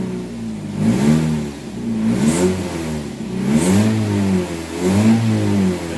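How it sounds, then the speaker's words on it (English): A Chevy HHR engine revs repeatedly in reverse gear with a transmission fault, rising and falling in pitch in several surges over a low rumbling idle, close and loud with no talking. "It shouldn't be revving like that in reverse."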